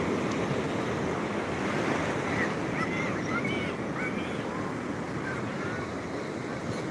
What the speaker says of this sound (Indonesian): itu ombaknya besar banget